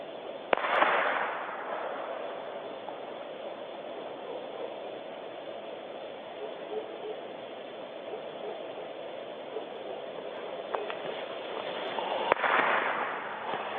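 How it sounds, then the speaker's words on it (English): A gunshot fired into the woods: a sharp broadband crack near the start and another near the end, over a steady hiss of background noise, with no talk. "Somebody just shot over into the woods."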